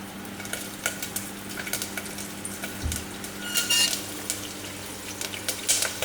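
Green chillies fry in a pan of oil with bay leaf for a home-style mutton curry. There is a soft, continuous sizzle with scattered crackles and light clinks of stirring, heard alone and fairly quietly.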